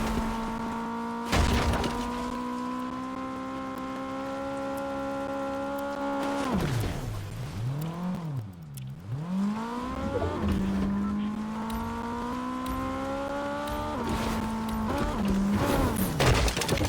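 A car in Fortnite revs loudly as it drives, its engine whining up and down in pitch during a wheelie and stunts, with a sharp impact early on and no talking.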